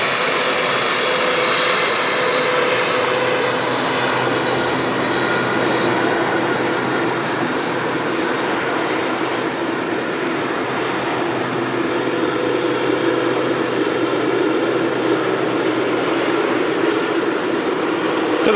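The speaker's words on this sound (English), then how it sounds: "Special livery just about to touch down from Brussels Airlines, the Tintin special." A Brussels Airlines airliner in its Tintin special livery comes in to land at Manchester Airport, its jet engines a steady, loud broadband roar throughout, with no voices.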